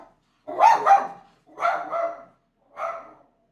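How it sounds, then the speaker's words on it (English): A dog barks three times, loud and close, in two quick bursts and then a single bark, with silence between and no talking. "That's a very noisy dog."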